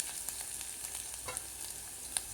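Mustard seeds, chana dal and ginger paste tempering in hot oil for a North Karnataka kadbele saaru, giving a faint, steady crackle and sizzle with a few sharp pops and light stirring scrapes.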